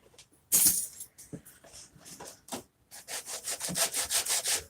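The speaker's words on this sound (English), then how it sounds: "I'm going to fold it. I can fit it right into this edge, and I'm going to sand along this edge." Folded sandpaper rubbed along the edge of a wooden cabinet drawer, giving close, dry scratchy strokes, first irregular and then a fast steady back-and-forth run of brisk rasps.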